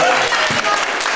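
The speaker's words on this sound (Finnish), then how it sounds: "Aplodit sitten Hilkalle." Applause at a village open-house event honouring a local contest winner, a crowd clapping loudly and steadily throughout with some voices mixed in.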